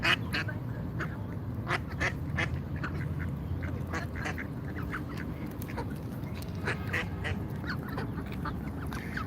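Near and persistent, a duck keeps up rapid quacking in an irregular stream at a Washington DC protest, set against constant outdoor background noise.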